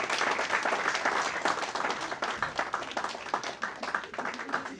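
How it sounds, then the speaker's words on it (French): Congregation giving a big round of applause for a man named Daniel at a church gathering, dense clapping with individual claps audible, fading slightly toward the end. "nous avons un gros applaudissement pour Daniel"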